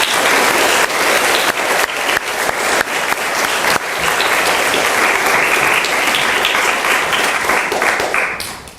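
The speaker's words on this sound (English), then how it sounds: "Let's give them a round of applause to show our appreciation." A crowd applauds staff at a school athletic sports awards event, loud sustained clapping from many hands that carries on evenly for several seconds before starting to fade.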